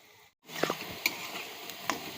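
Carrots frying in oil make a soft sizzle after a brief silent gap, broken by light clinks and scrapes of a utensil stirring in the pan.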